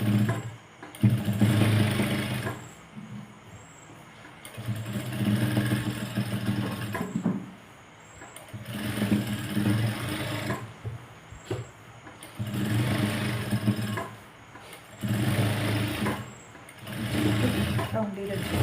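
Sewing machine stitching around the edge of fabric, running in several bursts of steady whirring separated by short pauses, fairly loud and close.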